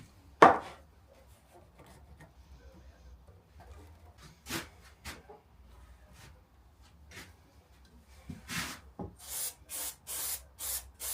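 Several short hissing bursts of glue activator being sprayed onto wardrobe parts during DIY assembly, growing more frequent toward the end, with scattered handling knocks before them and no talk.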